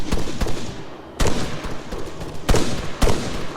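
Bursts of rifle gunfire in a nighttime firefight in Arma 3, several loud sharp shots and short volleys cracking out at irregular intervals over a constant rumbling battlefield background, with no talk.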